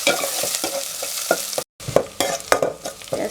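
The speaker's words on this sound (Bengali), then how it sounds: "পেঁয়াজটা ব্রাউন কালার হয়ে আসা পর্যন্ত নাড়াচাড়া করে" Onions frying in a pan under brisk stirring: rhythmic, close scraping strokes over a constant sizzle, with a brief silent gap partway through.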